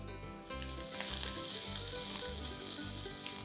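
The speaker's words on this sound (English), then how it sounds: "Cook this till the onions soften." Onion sizzling in a hot pan with garlic paste and finely chopped ginger for a vegetable chilli side dish, a steady close frying hiss with low clattering stirring underneath, no voices.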